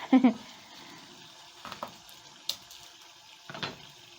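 Quiet sizzling of beef frying in a pot for stew, with a few scattered clatters and scrapes of utensils against cookware.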